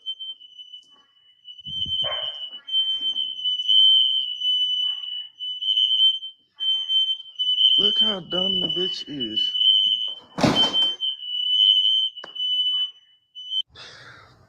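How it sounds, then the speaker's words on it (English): A smoke detector alarm beeps continuously at a steady high pitch through the whole stretch, loud and close, while people talk and laugh over it and a dog barks briefly. "tried to turn the smoke detector off"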